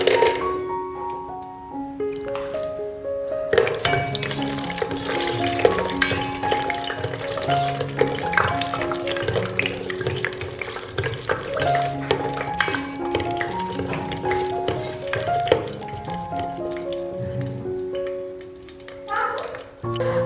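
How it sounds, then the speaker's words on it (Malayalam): Cashew nuts frying in hot oil for a fish biryani give a dense, continuous sizzle with occasional stirring scrapes, loud and close, with no voices. "ഓയിൽ ഒന്ന് ചൂടായി വരുമ്പോൾ നമുക്ക് ഫസ്റ്റ് തന്നെ അണ്ടിപ്പരിപ്പ് ഒന്ന് വറുത്ത് കോരാം"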